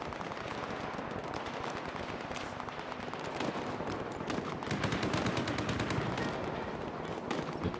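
Dense, loud gunfire fills the whole stretch in STALKER 2, with rapid automatic bursts and overlapping shots that run on continuously and grow heavier toward the end.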